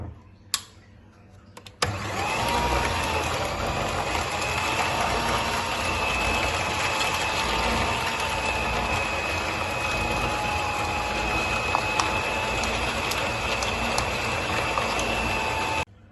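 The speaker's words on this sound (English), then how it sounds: "So I'm going to add in half a cup at a time and just whisk this together." An electric mixer whisks butter and sugar into frosting, starting abruptly with a steady, loud whirring hum that runs on continuously with a faint rattling edge.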